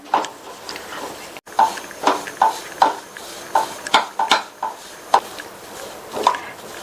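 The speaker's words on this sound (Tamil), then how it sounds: "கண்டினியூஸா இந்த மாதிரி கிண்டி கொடுத்துட்டே இருக்கணும்." A roasted gram flour mixture for a sweet is stirred constantly in a pan over a medium flame, giving about a dozen evenly spaced scraping strokes, close and distinct, with a faint sizzle underneath.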